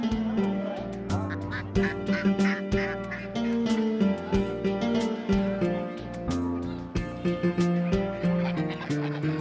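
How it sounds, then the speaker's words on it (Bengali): Domestic ducks crowd a busy livestock market at Salanga haat in Sirajganj, Bangladesh, with a dense, continuous chorus of nasal quacks in rapid overlapping bursts, loud and close throughout. "প্রায় সারা বছরই হাঁস পাওয়া যায় এই হাটে"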